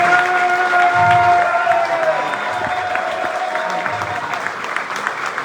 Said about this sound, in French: Alors puisque vous m'avez applaudi